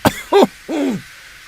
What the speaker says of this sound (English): Henry coughed feebly.